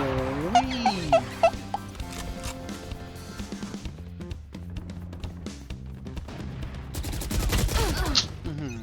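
Gunfire in the shooter game Valorant, quick bursts of shots and clicks mixed with tonal game effects, ending in a dense rapid volley.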